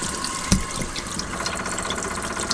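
Hot water runs steadily from a movable shower-style tap in a converted campervan, a continuous close splashing flow with a sharp click near the start.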